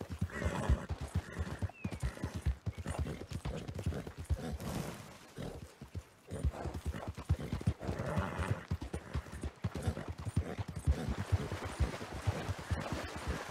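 Horse hooves clip-clop in Red Dead Redemption 2 as a dirty horse trots along, steady rhythmic thuds running throughout with a few brief whinnies, loud and close, no talk over them.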